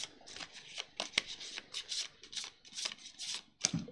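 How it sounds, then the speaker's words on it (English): Board game cards being shuffled by hand at a table, a run of soft papery riffles and flicks in irregular bursts, close and quiet with no voices. "Do some shuffling."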